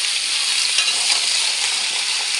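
Mixed vegetables tipped into hot tempering oil for a mixed-vegetable curry, producing a loud, dense, even sizzle that holds steady throughout.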